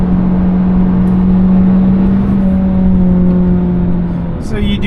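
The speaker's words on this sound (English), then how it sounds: "You want it to go hit those high revs, get a little bit more of an acceleration." Hyundai Sonata engine in sport mode, a steady loud drone whose pitch climbs gradually as the car accelerates, heard from inside the cabin, easing off near the end.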